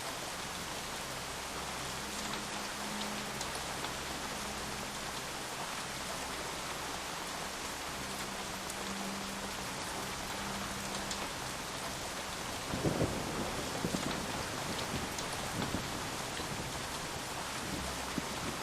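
Steady heavy rainfall with a low thunder rumble rolls through a rainy night level in the video game Shadowrun Hong Kong, set at a train station in Tai Po, continuous and enveloping with a sharper crack of thunder near the end.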